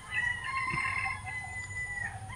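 Roosters crow and hens cluck on a small farm, a steady chorus of fowl calls carrying over one another at moderate distance with no pause.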